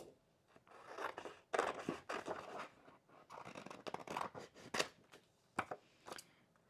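Scissors snip out paper pieces for a scrapbook layout, the quiet, close cuts coming in irregular bursts of crisp slicing and rustling.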